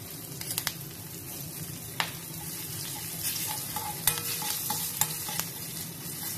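Green chillies and curry leaves fry in hot tempering oil for panchamrut, a soft continuous sizzle with scattered sharp pops and spoon clicks, quiet and close.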